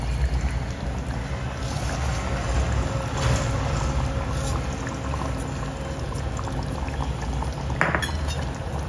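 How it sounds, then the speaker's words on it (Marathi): Vegetable and potato curry simmers in a pot on a medium gas flame, giving a steady close bubbling and hiss with a brief utensil clink near the end. "15 मिनिटं मीडियम गॅसवरती भाजी आपण शिजवली आहे."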